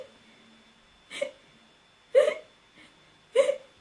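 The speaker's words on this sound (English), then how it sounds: "The last but one symptom of the second trimester is loud hiccups." Three loud, sharp hiccups from a pregnant woman in her second trimester, spaced about a second apart with a quieter catch between them, close and clear against a quiet room.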